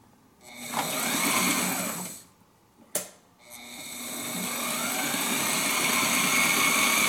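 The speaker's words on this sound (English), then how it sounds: "I'm also going to sew in the applique just to give it a little extra oomph" A sewing machine stitches an appliqué onto a cloth courtesy flag, running in steady humming bursts with a brief stop and a sharp click midway before resuming continuously, near and clear.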